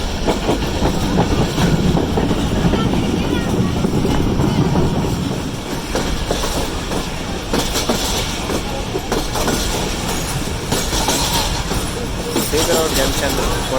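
Rehman Baba Express crossing Malir bridge near Karachi, a loud rumbling rush with rhythmic clickety-clack of wheels over the rails, and someone talking over the noise.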